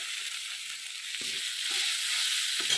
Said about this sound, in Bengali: এখানে আমি 1 চামচ আদা বাটা ভালো করে আদা বাটাটা ভেজে নেব।